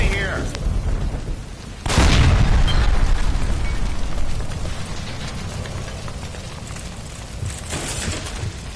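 A gas line is shot and explodes in the L.A. Noire video game: a sudden loud boom about two seconds in swells into a long, rumbling roar that slowly fades, with brief voices faintly beneath.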